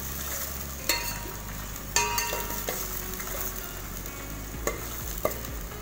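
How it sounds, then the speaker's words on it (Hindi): Onions frying in a pan for Bihari keema hiss in a continuous sizzle, broken by several loud scraping and clanking stirs of a spoon against the metal. "तकरीबन 3-4 मिनट हम इसको फ्राई करेंगे प्याज को"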